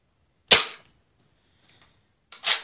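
A Nerf Recon blaster fires twice, two sharp, close snapping shots about two seconds apart with quiet between them.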